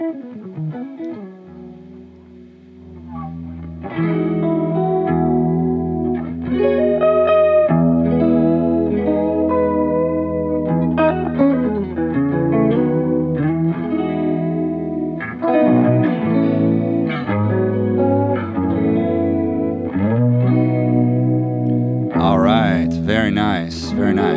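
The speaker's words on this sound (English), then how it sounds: "just have a really nice watery, buttery chorus vibrato at the same time" Electric guitar through a chorus vibrato effects pedal with a watery, wavering shimmer, chords and riffs played continuously and loud, with a brighter, harsher burst near the end.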